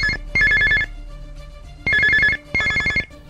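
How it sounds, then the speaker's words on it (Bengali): A telephone rings in a radio drama, with three electronic trilling bursts, the first short ring followed by two longer ones, each separated by a brief pause. "ফোন বাজে।"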